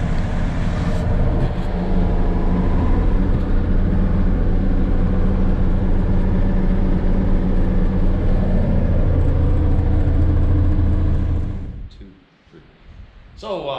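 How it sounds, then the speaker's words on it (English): Big Bud tractor engine running at Welker Farms in Shelby, Montana, a heavy, steady low diesel rumble up close that holds for several seconds, then drops away and returns. "now I can officially say I have drove a Big Bud tractor"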